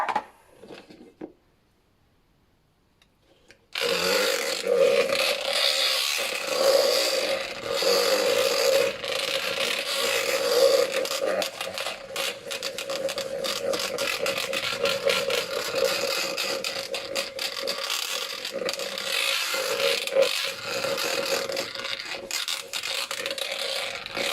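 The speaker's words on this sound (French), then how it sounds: "je vais utiliser le batteur plus petit" A small electric hand mixer whips shea butter into a chantilly, giving a steady, continuous whirring and scraping hum with a faint rattle; it starts abruptly after a few seconds of quiet and runs loud and close to the end.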